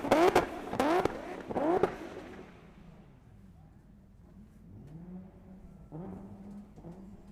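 Drift car engine at the Emirates Drift Championship, loud harsh revving bursts up front that fade into a distant lower drone, followed by another car's rising engine note in the distance.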